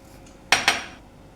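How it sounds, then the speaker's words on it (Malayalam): A metal spoon knocks twice against a bowl or pan as four tablespoons of sugar are added to milk for fruit custard, two sharp close clinks with a short ringing tail in a quiet kitchen. "നമ്മൾ എടുത്ത് വച്ചിരിക്കുന്ന പാൽ അതിലേക്ക് നാല് ടേബിൾ സ്പൂൺ പഞ്ചസാര ചേർക്കാം"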